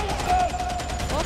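Rapid bursts of gunfire from gunner enemies in Warhammer 40K: Darktide rattle steadily through a brief moment, mixed with a voice and in-game noise.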